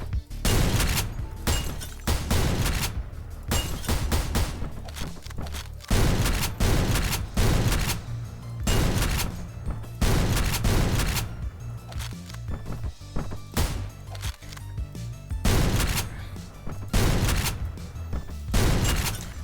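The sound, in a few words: gunfire from a gun in the video game Hunter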